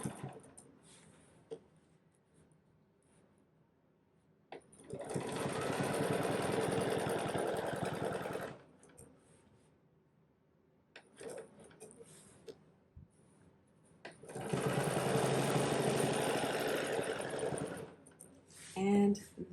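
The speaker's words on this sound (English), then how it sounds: "Sewing it can get quite meditative, just like most quilting." A sewing machine free motion quilting an echoed square design runs in two sustained bursts of steady mechanical whirring, each lasting several seconds, separated by quieter stretches with light handling noises.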